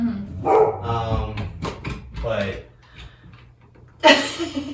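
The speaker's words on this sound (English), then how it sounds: "Yeah, we have a crew of dogs. They're all behind the door." Several dogs bark and whimper behind a bathroom door, muffled and intermittent, with a sharper outburst near the end, while a person talks over them.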